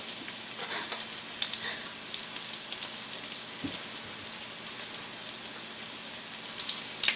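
Breadcrumb-coated chicken pieces fry in hot oil with a steady crackling sizzle and scattered popping spatters, close by and free of talk throughout.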